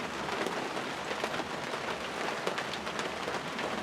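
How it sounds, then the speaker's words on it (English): Steady rain pours down just outside a fully enclosed back step, a dense, even hiss of drops striking surfaces for the whole stretch, with no voices over it. "it's really starting to rain"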